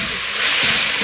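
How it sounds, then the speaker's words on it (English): Green lentils sauté in a pot with mirepoix, a loud, close, continuous hiss and sizzle over a brief moment. "I'm putting in my green lentils next so that they can have a chance to saute a little bit."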